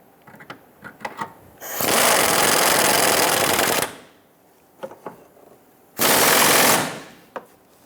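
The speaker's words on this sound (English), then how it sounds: "we can go ahead and tighten down the bolts" Power tool tightening the fuel tank strap bolts on a 2011-2021 Jeep Grand Cherokee: two loud bursts of rapid rattling, one about two seconds long and a shorter second one, separated by light clicks and handling noises.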